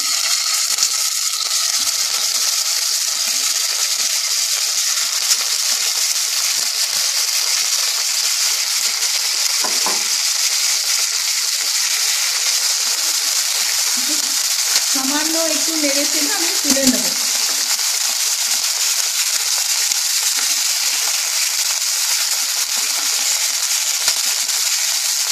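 Chicken pieces fry in a pan with a loud, continuous close-up sizzle and hiss, broken by a few quiet clinks and stirring sounds partway through.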